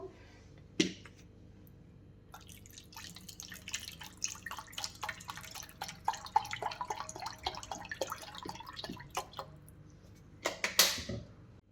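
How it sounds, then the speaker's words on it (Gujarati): Cold water is poured into a glass holding a little syrup, producing a run of close, rapid splashy drips and trickles that builds over several seconds before a brief final gush. No one talks. "એમાં ઠંડુ પાણી આપણે એડ કરશું"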